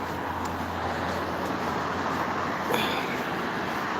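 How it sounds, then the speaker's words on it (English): Steady, continuous roadway rumble of passing traffic, an even broadband wash of engine and tire noise with no talking. "want the traffic noise."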